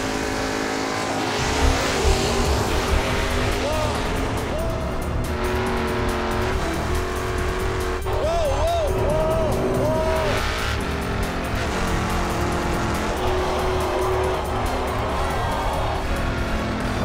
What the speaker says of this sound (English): Let's see the burnout.